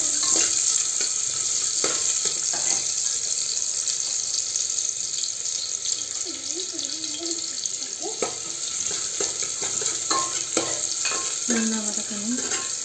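Chopped onion sautéing in a pan for chicken chalna, a steady frying hiss with scattered scraping and stirring clicks and brief faint background sounds.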